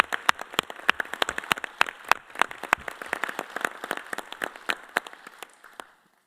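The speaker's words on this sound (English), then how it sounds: "I think you deserve a good round of applause." Applause at a figure skating federation congress in Lausanne, a room of people clapping steadily and fairly loudly for about six seconds before it stops abruptly.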